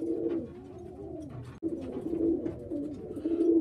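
A pure Macclesfield pigeon hen, a show bird, coos in steady low murmuring phrases at close range, with a brief break midway before the cooing carries on.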